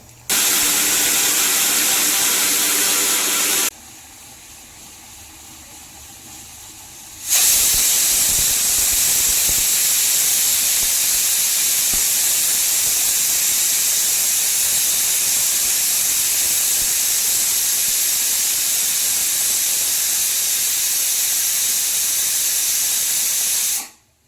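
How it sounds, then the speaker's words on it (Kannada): A pressure cooker cooking biryani vents steam in a loud, sustained hissing whistle that breaks off briefly and then resumes at full strength before cutting out. "ಎರಡು ವಿಷಲ್ ಹಾಕಿಸ್ಬೇಕೀಗ."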